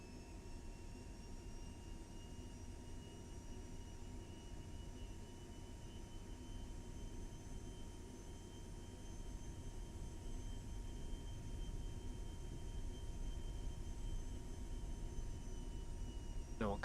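Engine of a Cirrus Vision Jet taxiing in X-Plane 12, a steady low rumble with a constant high turbine whine, even and unbroken, slowly building a little louder near the end.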